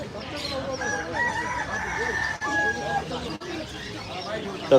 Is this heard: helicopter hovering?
no